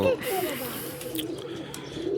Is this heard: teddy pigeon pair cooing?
yes